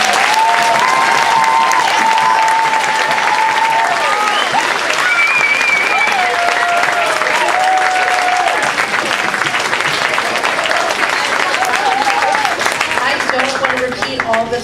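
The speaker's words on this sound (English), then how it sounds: "If we could just give the children one more big round of applause." An audience gives a long, loud round of applause after a children's stage performance. The clapping is continuous, with scattered cheers and voices calling out over it throughout.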